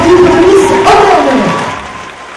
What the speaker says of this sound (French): Les applaudir très très fort, les 14 prétendants au titre de Miss Orléans.